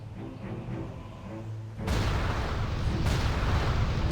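A Sapper Specialist's explosive goes off in World of Warcraft, a sudden loud burst that gives way to a dense, sustained crackling roar with a second smaller blast.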